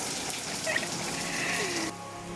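Morning rain falls in Uluwatu, Bali during the December rainy season, a steady watery wash with splashing that drops to a softer level near the end.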